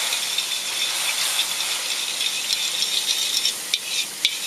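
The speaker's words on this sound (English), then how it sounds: "we have low sodium soy sauce, so that deglazes the pan" Low sodium soy sauce hitting a hot pan with beef stir fry, a steady bright sizzle and hiss with a few sharper crackles and pops near the end.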